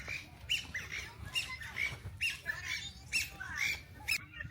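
A bird squawks repeatedly in a grassland in Taiwan, sharp cries arriving in an irregular series of about eight calls over a faint outdoor background.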